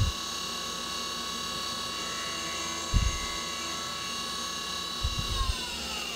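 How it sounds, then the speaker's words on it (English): A milling machine cuts with a 3-flute radius cutter on an AR15 gas block, a steady tonal whine with harmonics that dips in pitch near the end, broken by a few soft knocks. "Now I'm using a 47/1000 radius 3-flute cutter here"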